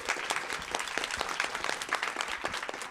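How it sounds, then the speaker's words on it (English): An audience at an assessment summit applauds, a dense steady round of clapping throughout that sounds fairly close and full, with no talk over it. "So can we give them a round of applause as well?"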